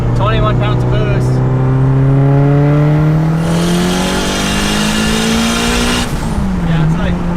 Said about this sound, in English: when that wastegate opens up, that sounds so dope.